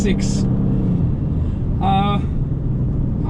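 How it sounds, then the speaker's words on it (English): A 1997 Porsche 911 Turbo S (993) flat-six runs with a low, steady rumble throughout, while brief voice sounds break in over it at the start and midway. "Listen to the sound of that flat 6."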